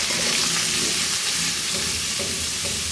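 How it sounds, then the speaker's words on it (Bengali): Potatoes seasoned with turmeric and salt fry in hot oil with chili and garlic, giving a loud, steady, close sizzle throughout, with stirring scrapes mixed in and no voices. "একটু হলুদ আর লবণ দিয়ে আলুগুলোকে তেলে ভেজে নিতে হবে।"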